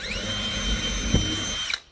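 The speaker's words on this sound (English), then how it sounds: "I don't know if you'll need to drill a pilot hole" A power drill whines steadily at high speed while boring a pilot hole in wood, close and loud, then winds down abruptly near the end.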